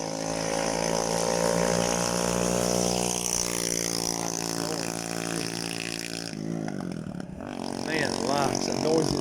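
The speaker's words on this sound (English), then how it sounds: "it's the noisiest motorcycle I've ever heard" A loud, droning motorcycle engine runs steadily with strong low harmonics, then shifts pitch as it revs and moves past.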